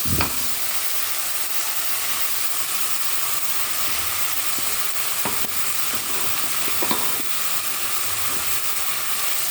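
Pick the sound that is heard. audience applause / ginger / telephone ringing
ginger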